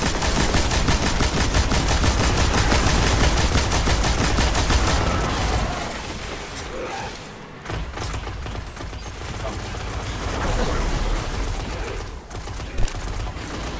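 Rapid automatic gunfire from the video game Destiny, during a Taken King strike in the Dreadnaught, rattles in dense continuous bursts for several seconds, then thins into scattered shots and effects amid game noise.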